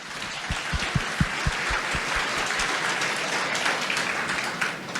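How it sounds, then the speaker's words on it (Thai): Steady applause from a large audience at a Thai political rally, many hands clapping in a dense wash for the whole stretch, with a few sharper low thumps early on. "ขอเสียงปรบมือให้กับทุกท่านหน่อยครับ"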